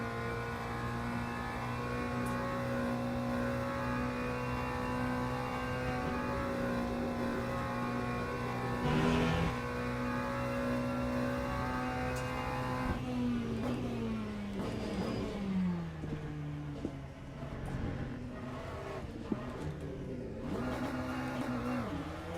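Race car engine in the Le Mans Ultimate sim at Spa-Francorchamps, a steady harmonic drone that holds, then drops and wavers through downshifts, with a sharp blip near the middle.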